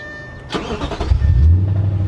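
A car engine cranks and catches, then settles into a low, steady rumble close by, with no talking.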